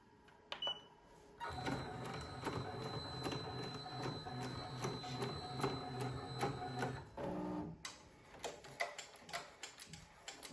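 An embroidery machine runs a placement stitch with a rapid, steady mechanical ticking and whirring hum for several seconds, then stops, followed by a few scattered clicks and taps nearby.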